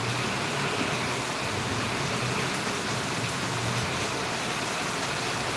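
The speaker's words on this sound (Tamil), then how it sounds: "நல்லா மழை பெஞ்சிக்கிட்டு தான் இருக்குது" Heavy rain pours steadily in Valliyur during a thunderstorm, a dense, continuous hiss of drops on surfaces that stays loud and even throughout with no voices.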